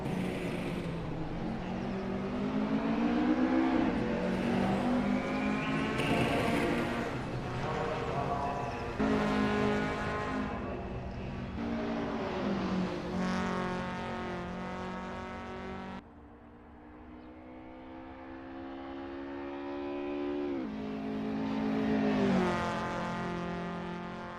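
A Lotus Cortina MK1 racing around Circuit Charade in Assetto Corsa, its engine note climbing and dropping through gear changes in a sustained loud drone, with commentary talk over it.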